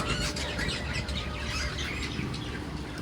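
Birds calling around a home, a continuous mix of chirps, tweets and squawks at moderate distance, with some wing flapping.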